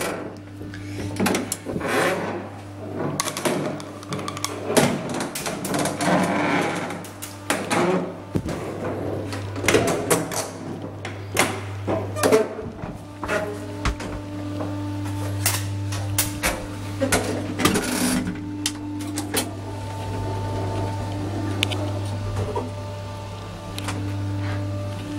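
Old 1982 De-Li-Vi traction elevator door, refurbished in 2015, in a Naples building: repeated mechanical clunks, slides and rattles over a steady low motor hum, fairly close, with no talking.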